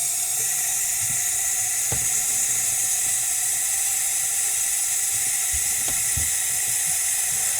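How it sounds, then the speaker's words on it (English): Water passing through a Berkey water filter during priming gives a steady hiss with a few faint drips and trickles. "It'll take a little bit as the water goes through the filter."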